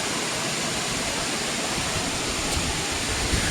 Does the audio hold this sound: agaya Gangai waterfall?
yes